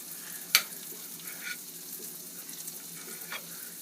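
Wild onions sizzle in a frying pan with a steady low hiss, a sharp clink of utensil against the pan near the start and a few soft stirring scrapes after.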